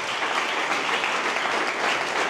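Church audience clapping in praise, a dense, even wash of many hands applauding together, loud and steady throughout.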